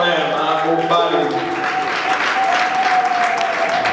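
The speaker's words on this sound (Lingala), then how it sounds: "Avec des acclamations quand même, hein, au palais." A crowd at Raoul Itono's wedding celebration in a palace hall applauds and cheers him, broad, loud clapping that swells over a few seconds, with some tonal sounds lingering at the start.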